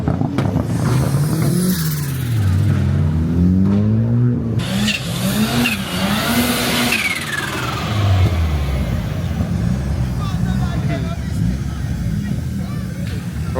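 A Ford Sierra RS engine revs at an old-school car meet, loud and close, with repeated rising and falling rev sweeps, a growling idle between blips, and people talking over the crowd noise.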